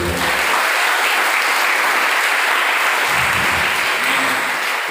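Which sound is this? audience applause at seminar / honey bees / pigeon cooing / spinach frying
audience applause at seminar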